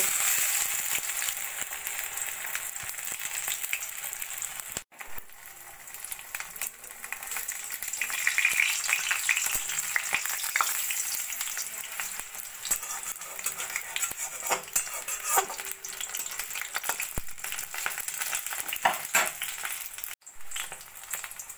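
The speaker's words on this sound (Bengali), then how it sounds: "একটা একটা করে ভেজে নেব।" Batter-coated vegetable breakfast fritters frying in hot oil in a kadai, a steady dense sizzling hiss that runs continuously with only brief breaks.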